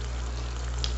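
Mutton with masala, ginger and garlic fries in a pan, giving a steady, close, even sizzle with no talk over it.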